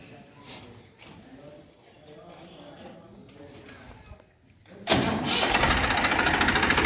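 A four-wheel tractor with a four-speed gearbox and 540 PTO cranks over under talking voices, then its engine catches about halfway through and roars up loud and steady into a rough idle.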